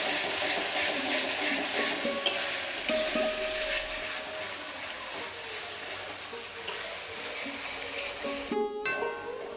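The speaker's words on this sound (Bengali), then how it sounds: "আমাদের আদা ও রসুনটা ভাজা ভাজা হয়ে গেছে" Ginger and garlic paste fries in a pan with a steady, soft sizzle and occasional stirring scrapes, ending with a brief sharp clatter near the end.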